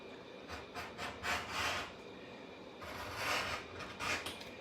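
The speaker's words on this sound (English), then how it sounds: "I'm doing the next step, which is cutting or trimming or edging the edges" Tool rasping along the edges of die-cut leather, repeated rubbing scrapes in short uneven strokes, close and moderately loud with a low steady background hum.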